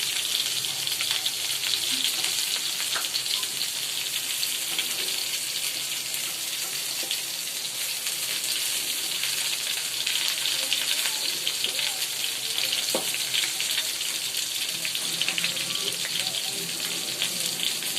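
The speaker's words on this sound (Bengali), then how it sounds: "তেলে আগে ভাজবেন তেলে ভাজার পরে রান্না করবেন" Chicken pieces frying in oil in a home kitchen make a steady, even sizzle that holds unbroken for the full stretch, close and moderately loud.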